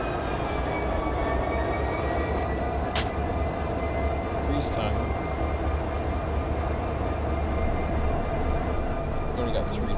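A train in the Run8 simulator on the Waycross route gives a steady, continuous low rumble and drone with faint intermittent clicks throughout.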